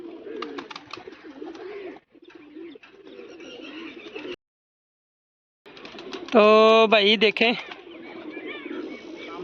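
Nearby pigeon coos, a soft throaty warble rising in the middle, with someone talking before and around it.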